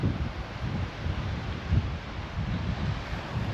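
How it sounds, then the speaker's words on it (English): Wind buffets a microphone with low, uneven rumbling gusts, a continuous blustery noise with no one speaking. "It's actually quite a windy morning here"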